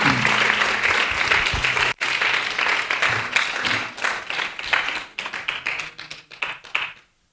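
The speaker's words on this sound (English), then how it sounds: "let's just give another round of applause to Champaklata Mataji and all the wonderful devotees" An audience at a Hare Krishna Sri Ram Navami festival gathering gives a round of applause, dense close clapping with one brief break that gradually thins into scattered claps and stops.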